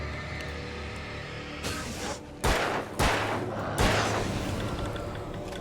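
A few heavy gunshots from the Alan Wake video game, three or four sharp booming blasts spaced about a second apart over a low ambient rumble, with no talk.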